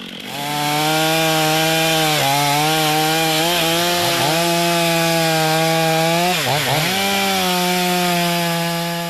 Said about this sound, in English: This is their tool now, a chainsaw, which saws up to 110 decibels.